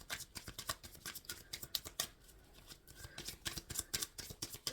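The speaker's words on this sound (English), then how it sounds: "I was guided to shuffle this again" Tarot cards are shuffled in quick rustling riffles and taps, a fast irregular run of crisp papery bursts, close and fairly quiet, with no talking.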